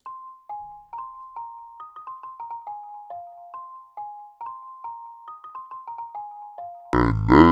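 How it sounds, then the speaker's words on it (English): Bell sound played as a melody in FL Studio, a clear, gentle line of ringing single notes stepping up and down in steady rhythm, then a sudden burst of denser sound at the end. "This is another bell I use a lot. And these are the notes."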